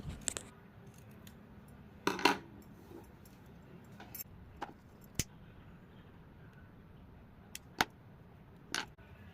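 Scissors snip through folded satin ribbon for a handmade rose, heard as a few sharp, close clicks spread over a quiet background, the clearest burst near the middle.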